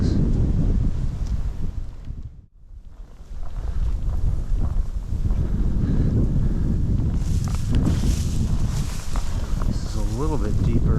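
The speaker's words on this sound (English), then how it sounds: "Oh, this wind sucks, folks." Strong wind buffets a microphone beside a trout stream in Wisconsin, giving a loud, constant roaring rumble with one brief lull. A voice is heard near the end.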